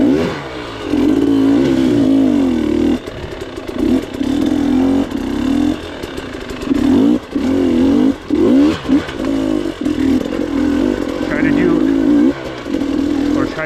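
Dirt bike engine revving hard on a hard enduro trail, a steady loud drone with repeated throttle blips and brief dips, heard close throughout.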